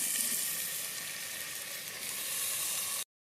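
Broad beans (chikkudukaya) sizzle and fry in a pan in a steady, hissing crackle with no voices. The sound cuts off abruptly at the end.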